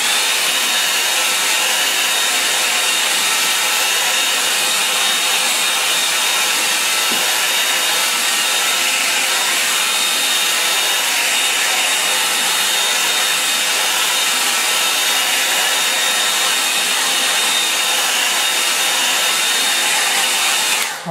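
A hair dryer blows steadily to dry a wet watercolour painting of a lake at sunrise, giving a loud, continuous, close-up whooshing drone that runs unbroken for the whole stretch with no talking.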